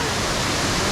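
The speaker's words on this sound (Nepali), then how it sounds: "झरना यहाँ छ यहाँ छ है झर्ना झरना" Steady broadband rush of a waterfall on a hillside trail between Sankhu and Tindhare, loud and continuous, filling the whole short moment with no break.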